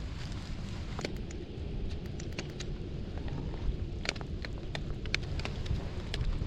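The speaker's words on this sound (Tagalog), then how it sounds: "umuulan na" Rain falls steadily during a fishing outing, a dense continuous hiss with scattered sharper patters and drips, moderately close, with no talking.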